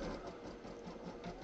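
An embroidery machine stitches a small bunny face, giving a faint, steady, fast mechanical whirr and needle rattle that runs throughout with no voice.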